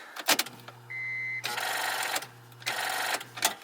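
A high-mileage Honda Civic with a weak battery struggles to crank, giving sluggish, labored starter whirs in two short attempts with a steady electrical hum between them, close and fairly loud.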